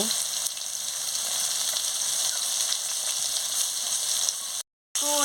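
Pomfret fish pieces fry in hot oil with a steady, loud, close sizzle that holds throughout, broken by a brief dropout near the end.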